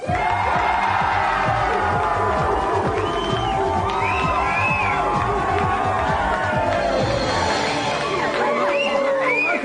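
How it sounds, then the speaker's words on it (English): A TV studio audience cheers and whoops loudly for a game show's celebrity guest, a dense, continuous roar of shouts and high-pitched yells lasting throughout. "Please give a big GamesMaster cheer for the Games Mistress."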